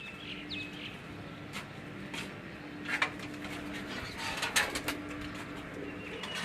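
Pigeons at a loft cooing softly, low murmuring coos under a steady ambient hum, with a few brighter chirps and light rustles scattered through, fairly faint and close.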